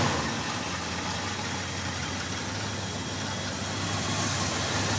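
A 1970 Ford Mustang coupe with a 351 V8 idles steadily nearby, a continuous low rumble with no knocking, loud and alone throughout.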